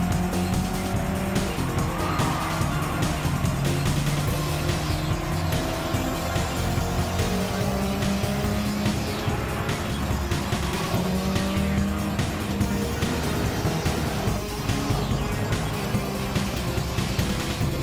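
Race car engines roaring continuously in a racing video game, with screeching tire squeal and skidding as cars run close together, loud and unbroken throughout.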